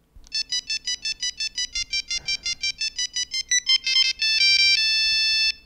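A Nokia 3310 mobile phone plays its ringtone melody, a loud, clean run of rapid repeated electronic beeps ending in a few longer sustained tones, with no talking over it.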